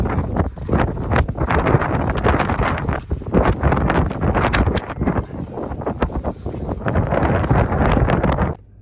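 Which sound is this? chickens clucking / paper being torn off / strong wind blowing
strong wind blowing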